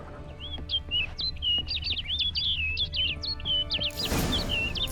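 A bird in The Witcher 3 chirps in quick, repeated, high tweets over a low ambient hum, and a short burst of rustling noise near the end.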